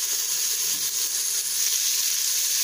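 Pork fat (salo) frying in a slow cooker pot during pea soup preparation, a steady close hiss and crackle of sizzling fat that runs evenly without a break and with no voices.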